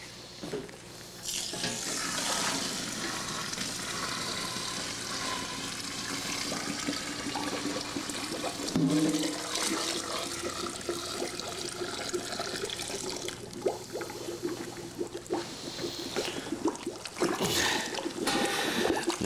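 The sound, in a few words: water poured into a mash tun with grain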